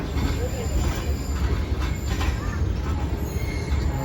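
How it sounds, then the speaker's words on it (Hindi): Passenger train on the Karachi to Lahore route, the Pak Business Express, rolls with a steady close rumble of wheels and carriages, with faint squealing and voices mixed in. "उतरते हैं ट्रेन से अब।"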